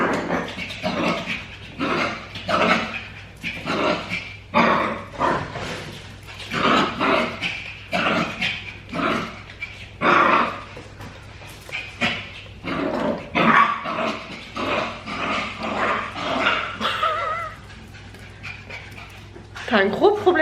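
A female dog pants rapidly and rhythmically throughout, with occasional barks and whimpers mixed in, close and fairly loud indoors, while people talk in the background.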